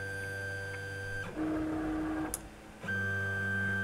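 A Kywoo Tycoon 3D printer's X and Y axis motors hum and whine as the axes move, with one short high pitched tone in the middle and a brief click.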